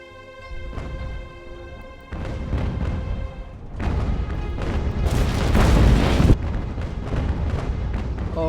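Ship cannons fire in a naval battle in the strategy game UGAR, with several deep booms and rumbling blasts stacking up over a musical backdrop, growing louder toward the middle.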